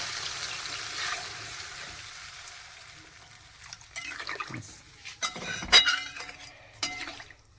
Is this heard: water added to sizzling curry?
yes